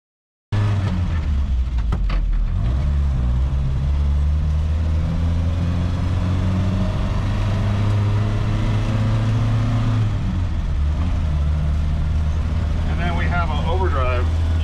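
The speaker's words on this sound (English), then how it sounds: "You can hear the RPMs drop." A DeLorean engine drones steadily with low harmonic bands, its pitch sliding down around the ten-second mark as the car shifts into overdrive and the revs fall, with road noise throughout and a brief squeaky sound near the end.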